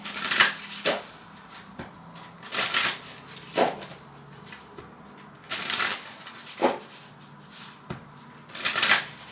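Tarot cards being shuffled in several quick riffling bursts, each a crisp fluttering rush separated by short pauses, close to the listener.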